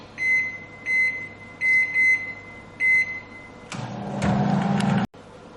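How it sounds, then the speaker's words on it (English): A microwave oven heating a tablespoon of ghee gives a string of short bright keypad beeps, then runs with a steady low hum that cuts off abruptly. "I just keep it in the microwave for"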